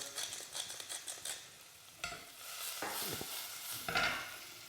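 Vegetables for asparagus and pesto soup softening in a pan, with a soft steady sizzle under close scraping stirs of a utensil against the pan.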